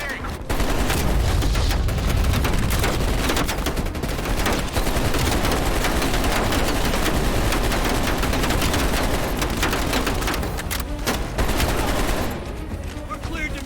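Helicopter-mounted guns fire in Call of Duty Black Ops Cold War, loud, dense bursts of automatic gunfire rolling almost nonstop for over ten seconds, with brief pauses near the end.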